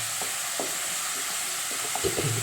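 Curry leaves frying in oil in a pan for beef pickle, a steady crackling sizzle with light stirring and scraping clicks, close up and with no talk.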